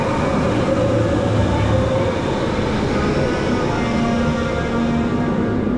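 The TRON roller coaster train at Magic Kingdom rumbles past in a dense, continuous roar with a faint squealing tone, loud and close throughout.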